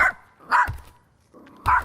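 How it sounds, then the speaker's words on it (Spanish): A small puppy gives three sharp, high-pitched yaps separated by short pauses, loud and close with no other sound around them. "lanzaba esos ladridos agudos y chistosos de los cachorritos"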